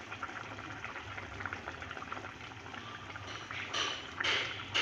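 Rohu fish curry with ripe tomato and potato simmers in a pan, a soft steady bubbling close by, with a brief brighter clatter near the end and no talk.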